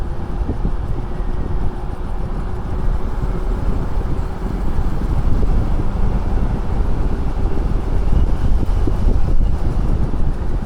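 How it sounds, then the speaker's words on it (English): Strong wind blows outdoors on an urban street during a ride on a fast e-bike, a loud, constant buffeting roar across the mic with no speech. "Windy out here."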